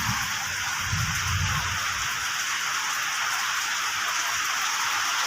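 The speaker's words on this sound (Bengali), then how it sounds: "বৃষ্টি পড়ছে" Rain falls steadily in a dense, even hiss that holds at the same level throughout, with a faint low rumble early on.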